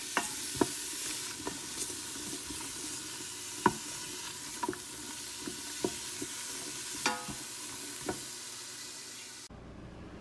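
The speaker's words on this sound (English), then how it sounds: "I had added my onion, and I'm just" Onions sizzle steadily in a pot while a utensil stirs and scrapes with scattered clicks and taps, no voices.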